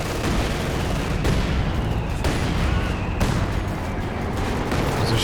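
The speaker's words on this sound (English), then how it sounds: "Calling in some kind of artillery with the officer, maybe?" Artillery fire in Company of Heroes 2 lands as dense, continuous rumbling blasts with sharper booms about every second, loud and sustained beneath a wash of battle noise, and no voices.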